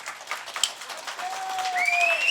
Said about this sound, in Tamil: ப்ளீஸ் கொஞ்சம் கை தட்டுங்களே.